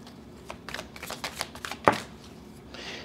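Oracle cards are shuffled by hand in a quick series of soft papery riffles and flicks, ending in a sharper snap, close and fairly quiet.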